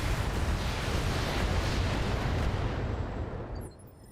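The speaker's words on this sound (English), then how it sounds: "Ryan's popping up, he's shooting at turrets." A mech in Battletech fires on turrets with a loud, rumbling roar of sustained weapon fire that fades out near the end.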